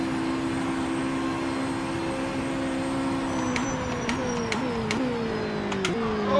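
A race car accelerates in a racing video game with LMDH and GT3 cars, its engine whining steadily and rising through several quick gear shifts, heard alone and fairly loud.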